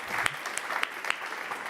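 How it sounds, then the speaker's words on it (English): Brief applause from a small audience at a startup pitch event, scattered individual claps rising out of a modest patter for under two seconds. "Round of applause."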